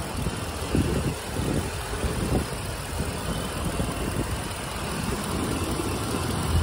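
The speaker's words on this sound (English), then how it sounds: "gas V8 engine." A Ford F-350 STX truck's gas V8 engine idles with a steady low rumble and a faint hiss, even and continuous, heard close with no voices.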